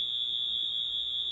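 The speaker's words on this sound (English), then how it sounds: "I think that's a fire alarm." A fire alarm sounds as a single, unbroken high electronic tone held at a steady level, fairly faint and alone, with no talking.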